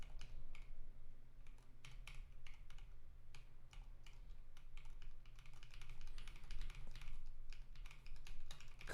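Rapid bursts of computer keyboard typing, close and clear, with irregular clusters of clicks and brief pauses over a low steady background hum.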